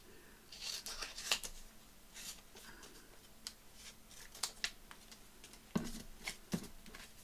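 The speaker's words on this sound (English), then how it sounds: "what I want to do is fussy cut that out" Scissors fussy cut paper for a craft planner page, quiet close snips arriving irregularly, some in quick pairs, with soft paper rustles between them and no talking.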